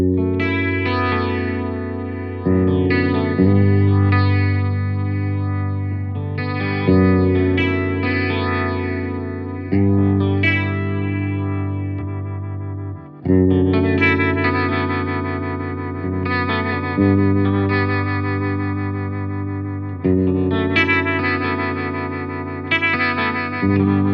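Electric guitar through a Fender Champion 100XL amp with a slow modulation effect, sustained chords and arpeggios shimmering and swirling, loud and alone with a reverberant tail.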